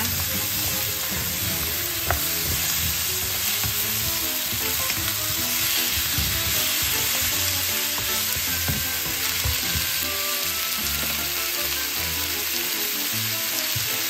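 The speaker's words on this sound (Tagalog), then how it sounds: "Ihulog natin ang ating kalabasa." Squash for pinakbet dropped into a hot pan, frying with a loud, dense, continuous sizzle close by, steady throughout with faint stirring clatter and no talk.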